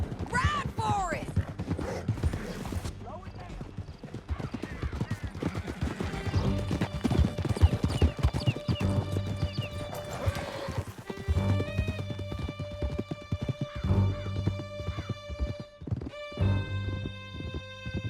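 Horses galloping across rough ground in the video game Red Dead Redemption 2: steady, close clip-clop of several hooves with occasional whinnies, running under spoken dialogue and music.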